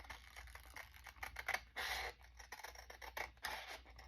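Scissors snip around a paper envelope with a run of short, close crisp cuts and paper rustles in an irregular rhythm, quiet and without talk.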